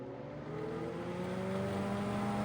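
A 1970s 12-inch Superior electric fan with a shaded-pole motor runs steadily, a close, even whir carrying a tonal electrical buzz whose pitch rises slightly. Nobody speaks.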